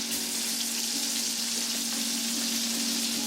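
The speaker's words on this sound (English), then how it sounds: "we're going to turn the first steak over" Steak sizzles in a pan with garlic butter, a steady, loud frying hiss with faint crackle throughout and no talking.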